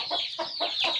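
Chickens and roosters at a backyard poultry pen cluck in four short, close bursts over about a second, with a steady high chirping layer running underneath.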